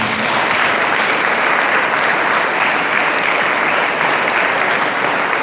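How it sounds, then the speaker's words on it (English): Loud, sustained applause from a large school audience in Patna fills the space, dense and steady throughout, honoring a student for national achievement in astronomy and astrophysics Olympiad, with no talk over it. "You can clap for him."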